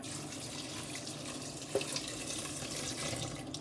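Filtered water running from a tap in a home kitchen during bulk freezer-meal cooking, a quiet steady stream with a small splash partway through.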